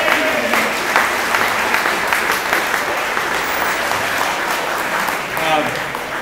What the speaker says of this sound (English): everybody give themselves a round of applause